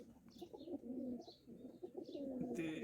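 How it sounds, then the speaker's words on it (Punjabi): Siraji pigeons coo softly and close by in a village loft, with repeated low throaty calls rolling through the quiet and a brief higher chirp near the end. "ਇਹ ਹੈ ਜੀ ਸਰਾਜੀ ਕਬੂਤਰ, ਮਾਸ਼ਾਅੱਲਾ।"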